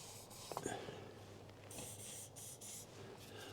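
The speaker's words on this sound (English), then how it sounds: "Do you want a little bit of a squirt on your hinges?" A few short hissing squirts of spray lubricant onto gate hinges on a cattle farm, faint and soft against a steady low background rumble.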